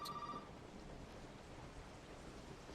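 A telephone ringing in the Resident Evil 7 guest house, a brief ring at the start that fades into a low hiss of ambient game noise.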